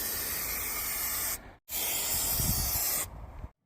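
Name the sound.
high temperature spray glue being sprayed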